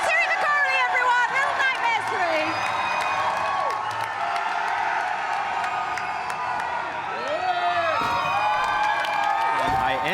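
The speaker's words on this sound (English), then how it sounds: "that crowd is going crazy out there" Crowd on the Gamescom show floor cheering and shouting continuously, a loud, dense roar with whoops, heard under people talking nearby.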